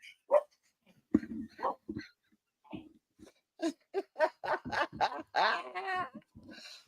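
A dog at a casual indoor gathering barks and yips in short, close bursts over several seconds, mixed with whimpers, with people's voices and laughter around it.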